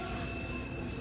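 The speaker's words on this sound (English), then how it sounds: "Train's coming past." A train rumbles steadily past close by, a continuous loud roar of wheels and carriages on the rails that fills the whole moment with no pause.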